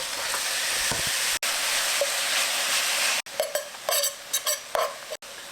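Meat fries in a pan for eggplant lasagna, giving a loud, steady sizzle. Scraping stirs and clinks of a utensil on the pan break in near the end.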